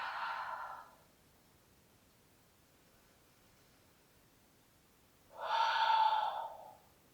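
Two slow, audible breaths during a beginner yoga class, one at the start and one near the end, each soft, airy and close with quiet in between.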